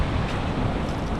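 Strong sea waves breaking on an island shore in Phu Quoc, Vietnam, a steady broadband wash of surf with wind rumble, continuous and fairly close, no voices.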